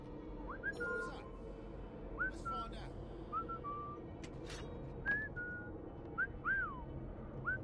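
Short two-note whistles repeat at a steady pace in the video game Assassin's Creed Syndicate, about seven rising then falling calls, clear but moderately quiet, with soft background talk beneath.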